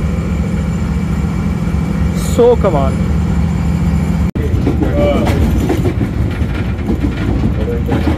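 A railcar train rolls steadily through the yard of Cantt railway station in Pakistan with continuous rumbling and clattering, a brief squeal midway, and someone talking over it.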